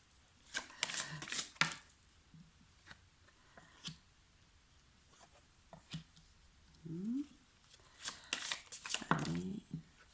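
Tarot cards are shuffled and flipped over in close, crisp bursts of riffling and snapping, with quieter scattered card taps between the louder flurries.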